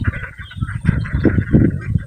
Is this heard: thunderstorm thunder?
no